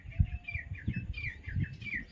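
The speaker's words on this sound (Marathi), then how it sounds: "आणि चिमण्यांचा ह्याचा असा किल किल किल किल किल किल आवाज आहे बघा" Sparrows chirp busily at dusk in cold air, with a dense stream of quick, overlapping high calls close by and soft low thumps underneath.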